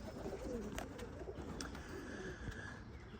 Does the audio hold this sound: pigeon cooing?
yes